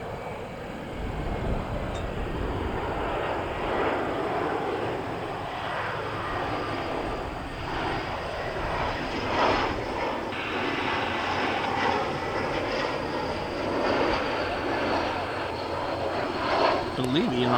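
An airliner, flight 4301 inbound from JFK, drones steadily with a broad engine roar that holds constant throughout, fairly loud and unbroken, with no clear talk over it.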